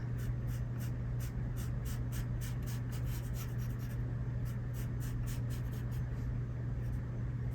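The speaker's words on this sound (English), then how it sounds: "I'm going to draw 2 vertical parallel lines" Pencil strokes drawn along a ruler, two vertical parallel lines on paper while sketching a rose, a steady series of short scratchy strokes over a constant low hum, close and fairly quiet.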